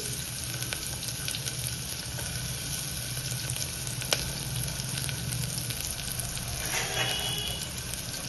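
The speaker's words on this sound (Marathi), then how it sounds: "हलक्या हलक्या हाताने कांद्याला परतून घ्यायचं तेलात" Finely chopped onion fries with cumin in oil for misal pav, giving a steady, close sizzle with occasional light clicks of stirring and no talking.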